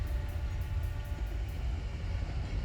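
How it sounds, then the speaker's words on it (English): A steam locomotive's engine fired up, a heavy, steady rumble, a low continuous roar that holds at the same level from start to finish with no break. "He tied down the whistle and fired up the engine."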